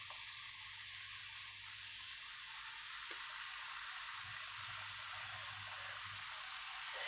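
Small drops of pakoda batter sizzle in hot oil with a loud, continuous, bright hiss that stays close and steady throughout, with no voices.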